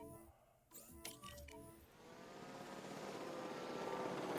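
A helicopter in the video game Jurassic World Evolution 2 whooshes and rumbles, its engine noise swelling steadily louder as it flies, faint at first after a few brief clicks.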